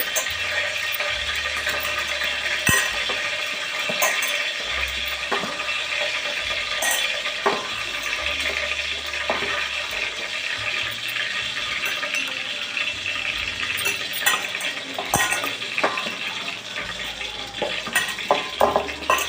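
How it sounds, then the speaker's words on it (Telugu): Fish pieces being mixed with three spoons of chili powder for a fish curry: continuous moist scraping and squelching stirs with a steady sizzle-like hiss, close and fairly loud throughout. "ఒకటి రెండు మూడు స్పూన్లు కారం బాగా కలుపుతున్నాం దీన్ని"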